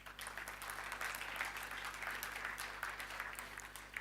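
Soft, steady applause from a conference audience at a tech talk, a dense patter of many hands clapping at a distance, fairly quiet and continuous for a few seconds.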